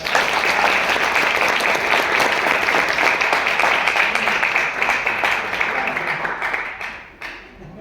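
Sustained audience applause in a classroom lecture, a dense, loud patter of many hands that holds steady for several seconds before thinning and fading near the end.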